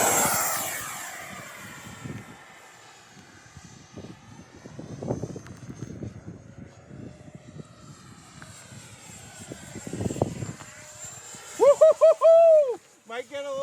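An FMS F-16 64mm electric ducted-fan RC jet flies in a rising and falling whine as it passes overhead, with a person cheering near the end.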